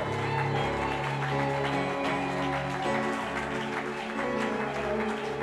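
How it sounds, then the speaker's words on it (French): A church congregation at an inaugural service applauds their pastor, a sustained wash of clapping mixed with music and crowd murmur, loud and continuous throughout. "This is the way you are clapping"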